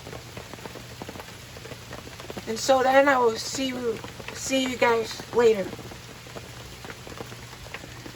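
Steady rain falls throughout as a continuous broadband hiss, with a person talking over it in the middle.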